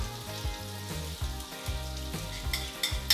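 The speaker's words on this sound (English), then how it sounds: "fry up some mushrooms" Brown shimeji mushrooms fry in butter in a hot pan, giving a steady close sizzle and crackle with small bursts of spatter throughout.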